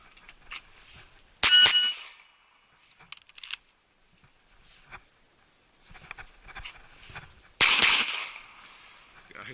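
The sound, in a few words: Arsenal Strike One pistol shots fired at a target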